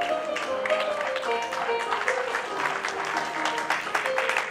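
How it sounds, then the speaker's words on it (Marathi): An audience at a village stage show applauds loudly at an award presentation, with dense clapping running under a tonal melody from the stage. "जोरदार टाळ्या"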